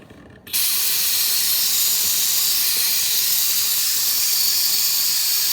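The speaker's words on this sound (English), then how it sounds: "kill the extra steam" An espresso machine vents its leftover steam in one sudden loud, steady hiss that starts after a brief quiet moment and keeps going unbroken.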